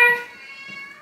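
Kittens meowing at home after a first vet visit, a single high, bright cry at the start that trails off into quiet room tone.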